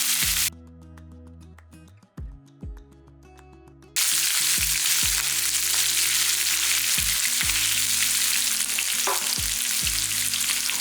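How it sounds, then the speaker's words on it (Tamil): Small onions and dried chillies sautéing in a pan, starting as a low sizzle with repeated short musical tones over it, then becoming a steady loud frying hiss for the rest, with no talking. "பாருங்கள் இந்த வெங்காயம் வதங்கும் போது"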